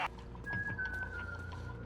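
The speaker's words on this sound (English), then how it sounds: "at least if we lose this guy, I guess we just follow the whistling sounds" A thin whistled tune from a character in Metal Gear Solid 4, sustained and wavering, carried faintly over a low ambient game rumble with soft background sounds.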